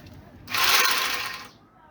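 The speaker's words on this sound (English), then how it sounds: "a sewing machine, just like this." A sewing machine stitching closed a filled sack runs in a single steady mechanical burst of about one second, moderately loud and close, with no talking.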